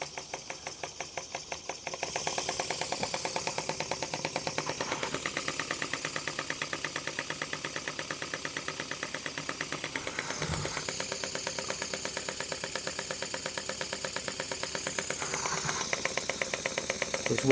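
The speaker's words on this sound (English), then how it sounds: "This engine runs incredible." A twin-cylinder marine steam engine with 1-inch bore, 1-inch stroke and 90-degree crank runs at a steady, fast rhythmic chuffing, close and continuous throughout with a brief dip near the middle.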